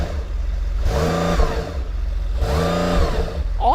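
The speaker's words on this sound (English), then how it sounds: "So, Lewis, give it some revs." Porsche 911 Turbo S engine revved twice while parked, heard from outside, with two loud rising-and-falling blips over the idle.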